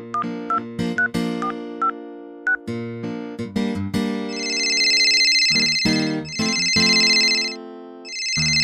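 A telephone ringtone plays loudly, short melodic beeps at first, then a repeating bright electronic ring pattern, with no talking.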